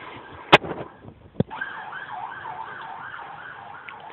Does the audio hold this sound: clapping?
no